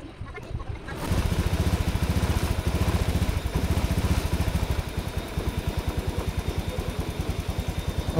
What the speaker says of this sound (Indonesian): Oke, motor sudah bisa hidup ya.